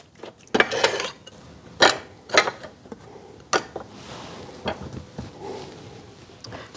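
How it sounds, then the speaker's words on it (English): A utensil scraping tallow impurities into a bowl, with a string of clinking, scraping knocks of metal against the dish, some sharp and louder, others soft, spaced irregularly. "we're going to just scrape off these impurities into our bowl."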